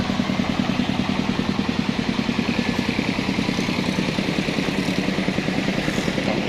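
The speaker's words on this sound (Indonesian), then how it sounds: "mesin yang sedang kita perbaiki. Ini namanya kompek ya, untuk pemadat tanah." A soil compactor's engine runs steadily under repair, a close, loud mechanical idle with a fast, even clattering pulse that holds without a break.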